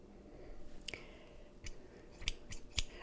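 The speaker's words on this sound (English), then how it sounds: "So one of the goodies is a pair of scissors." Eiffel Tower-shaped pair of scissors handled up close, with several sharp metallic snips and clicks scattered over quiet room tone, the louder blade snaps coming near the end.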